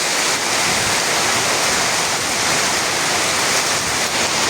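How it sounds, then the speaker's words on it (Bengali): Heavy rain pours in a dense, unbroken roar during a Kalbaishakhi storm, driven by strong gusting wind, loud and close throughout. "প্রচুর বৃষ্টি হচ্ছে, সাথে বাতাস"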